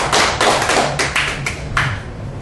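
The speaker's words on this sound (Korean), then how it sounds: "우리 다시 한번 박수 한번 칩시다." Congregation clapping during a Friday night church worship service after a testimony, a fairly close, loud patter of hands that settles into a few sharper separate claps before trailing off.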